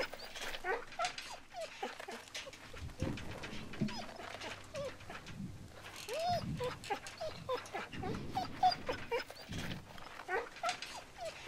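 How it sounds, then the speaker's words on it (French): A dog whimpering and crying in The Walking Dead Telltale video game, Season 2 Episode 1, with repeated soft high whines scattered over quiet game ambience. "les pleurs du chien sont trop bien faits"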